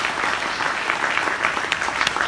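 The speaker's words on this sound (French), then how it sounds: "on peut l'applaudir très fort" Audience applause in a theatre hall at a short-film festival screening, steady dense clapping from a crowd throughout, fairly loud and even with a few sharper claps standing out.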